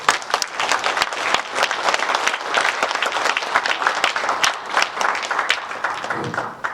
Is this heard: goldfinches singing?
no